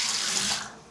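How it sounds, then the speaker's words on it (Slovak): Water gushing to flush a squat toilet at a market in Asia, a loud close rush of flowing water that fades toward the end, with no voices. "Splachovací systém."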